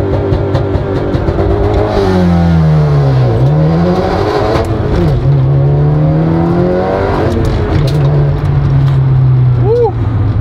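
A manual 2019 Honda Accord 2.0T sedan launching hard, the engine revving and climbing through gears with loud, close, sustained rising pitch sweeps, under people talking inside the car.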